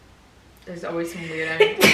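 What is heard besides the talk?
sneeze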